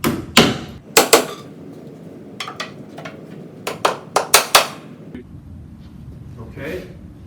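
Sharp hammer taps tacking a trim piece into a three-way chamfer joint, a few single blows and then a quick cluster of four or five close, loud strikes, with quieter room noise between.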